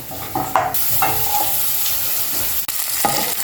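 Garlic and onion fry in a hot pan, giving a loud, steady sizzle with occasional scraping and stirring clatter and no voices.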